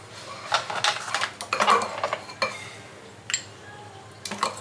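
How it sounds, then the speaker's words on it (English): A utensil scrapes and clinks against a pan while dosa masala is stirred, several irregular close scraping strokes over a faint background hum, no talk. "So now we're stirring it all together."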